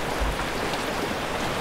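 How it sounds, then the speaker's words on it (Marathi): Light rain falls over a Konkan fishing village, a steady, soft wash of broadband patter lasting under two seconds, with no voices. "हलका हलका पाऊस अजूनही सुरू होता."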